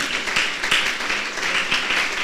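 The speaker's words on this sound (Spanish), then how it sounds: "Demos un aplauso al Dios de la gloria" Congregation at a church service clapping together in praise, a steady, dense wash of applause with a few sharper claps, fairly close and continuous throughout.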